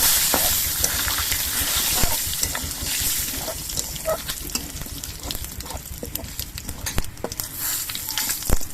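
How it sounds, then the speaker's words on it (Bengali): Whole spices, dried red chillies, bay leaves and cumin seeds frying in hot oil, a steady close sizzle with crackling pops and the scrape of stirring throughout. "দুটো শুকনো লঙ্কা কয়েকটা গোটা গরম মশলা আর অল্প করে একটু গোটা জিরে এবার মশলাটা ভেজে নিতে হবে"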